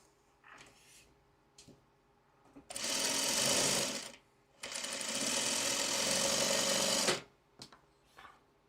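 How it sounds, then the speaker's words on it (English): A sewing machine runs in two loud, steady bursts of rapid whirring stitching, separated by a short pause, with faint handling clicks before and after. "And I'm going to sew this one here."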